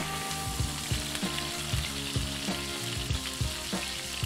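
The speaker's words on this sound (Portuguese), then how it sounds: "Coloque uma pontinha da carne no óleo. Fez esse barulhinho?" Chicken breast searing in hot olive oil, a loud, close, continuous sizzle with rhythmic pulsing crackles throughout and no voices.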